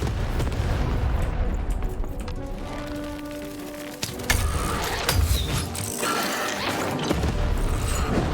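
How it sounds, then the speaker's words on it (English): A cannon fires in the video game Lost in Random, with a heavy crashing blast and clattering mechanical noise inside a dense, loud game soundscape. "Shoot the button to fire the cannon."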